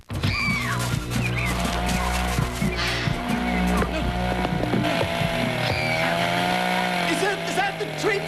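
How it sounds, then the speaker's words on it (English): A Tree Topper 2000 chainsaw runs continuously, its engine droning and revving with a loud, rough buzz throughout, mixed with other busy outdoor sounds. "Is that the Tree Topper 2000? It's a great chainsaw."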